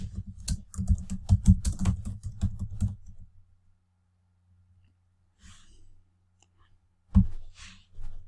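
Rapid keystrokes on a computer keyboard while typing a personal business letter, a dense run of close clicks for about three seconds, then quiet with a few scattered taps and breaths.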